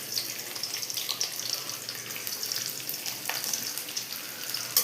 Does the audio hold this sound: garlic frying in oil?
yes